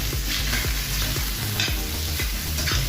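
Beef sautés in a hot pan for caldereta, with a loud continuous sizzle broken by repeated scraping strokes of a stirring utensil.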